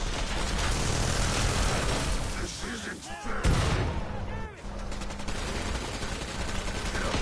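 Rapid gunfire in Killing Floor 2 during a Patriarch boss fight, a dense continuous rattle of shots layered with explosions and game noise, with voices talking over it.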